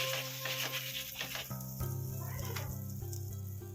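Butter sizzles and crackles on a hot griddle for garlic bread, a steady hiss with some tonal hum underneath.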